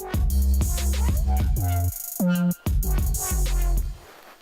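A deep 808 bass pulses beneath a higher synth line playing the same notes an octave up, loud and punchy in a rhythmic pattern, in a grime, trip-hop and trap beat made in FL Studio 12.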